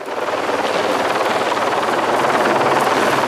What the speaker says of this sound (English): the police helicopter